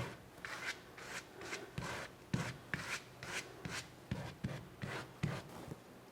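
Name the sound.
silicone tool with teeth scraping paint on a painting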